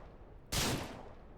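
A single sharp revolver shot in Ranch Simulator, a sudden loud crack that decays quickly into a short fading tail.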